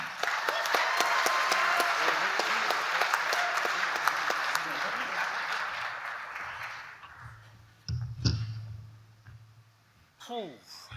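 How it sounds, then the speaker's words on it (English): An audience at a construction excellence awards ceremony applauds loudly with dense, sustained clapping that gradually thins and fades out, followed by a few scattered sounds and a brief voice. "Another round of applause for the team."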